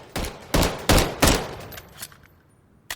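CZ BREN rifle fire in the video game Call of Duty Modern Warfare III: four sharp, loud shots in quick succession, then fainter scattered reports and a tail fading out, with no voices.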